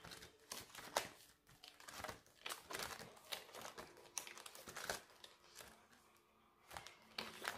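Banknotes slide into a paper envelope with soft, close crinkling and rustling that comes in short, uneven bursts at low volume.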